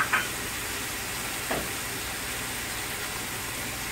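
Squid frying in a hot pan as seasoning sauce is poured in, a steady broadband sizzle throughout with a brief sharper hiss near the start and another around the middle, fairly quiet and without voices.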